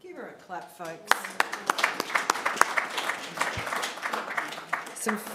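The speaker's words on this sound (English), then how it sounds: "Give her a clap, folks." Mourners at a funeral break into scattered clapping after a song, sharp distinct claps in an irregular rhythm in a hall, with a voice talking briefly at the start.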